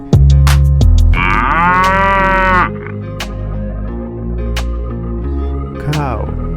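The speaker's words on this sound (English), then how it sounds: "Cow." A cow gives a loud, drawn-out moo lasting a couple of seconds. Softer, lower lowing and other farm animal calls follow at close range, with a brief second call near the end.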